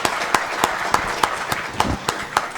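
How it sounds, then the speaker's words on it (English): Sparse applause after an academic lecture: roughly nine distinct, evenly spaced claps ring out against a quiet room, sounding like a small audience. "So a big round of applause for Professor Ramamurty."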